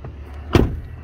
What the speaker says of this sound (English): came to this one, and finally shut my door